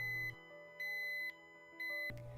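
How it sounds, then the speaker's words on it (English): Thermo Scientific RadEye PRD radiation detector in single-pulse mode, giving three loud, long electronic beeps separated by short pauses, with no voices. "The single pulse mode makes the detector beep every time it detects radiation."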